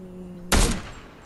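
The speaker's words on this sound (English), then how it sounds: "Oh, who's shooting? Me." Single loud gunshot in a first-person shooter video game, one sharp crack with a short decaying tail, alone against a quiet background hum.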